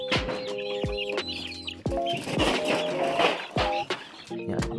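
Several backyard chickens cluck and call repeatedly in a crowded coop, close by, overlapping bursts with brief pauses and some faint chirps in the background.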